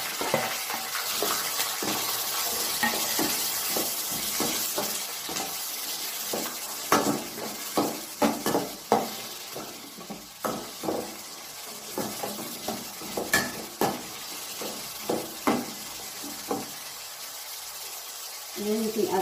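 Chopped onion and chili fry in a pan while making Filipino tomato rice, with a soft continuous sizzle broken by repeated stirring scrapes and clinks, and a voice talks at times.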